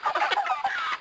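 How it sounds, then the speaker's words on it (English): Three-week-old broiler chickens raised as a 4-H project cluck and chatter in a short, steady burst of overlapping bird calls, fairly close and with no talking. "not chickens, broilers."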